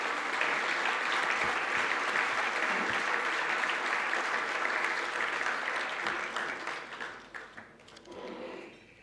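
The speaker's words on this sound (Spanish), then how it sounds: "Daniel Hoffmann lo recibimos con un aplauso" Dense, sustained applause from a large audience welcoming Daniel Hoffmann, president of Banco Estado, at an economic forum, loud and steady before thinning and fading toward the end.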